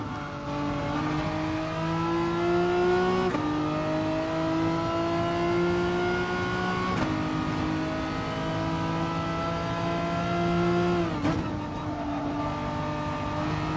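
A race car engine in a racing video game screams at full throttle through a flat-out corner in fourth gear, its steady, loud whine rising in pitch and dropping sharply at gear shifts every few seconds, with no voices.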